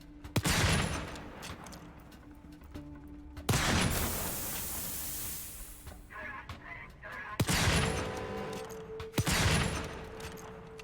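Gunfire in the video game Volcanoids: several loud, sharp shots spread across the clip, each followed by a ringing decay, with mechanical game sounds in between.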